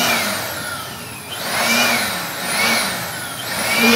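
An electric blower cleaning a PC whirs loudly and steadily, rising and falling in pitch across several surges with a high whine on top.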